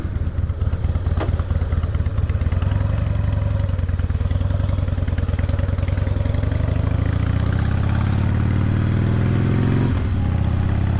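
A 2004 Harley-Davidson Softail with a twin cam engine runs steadily throughout, its loud, low, lumpy rumble continuous, with engine pitch rising toward the end as it pulls away.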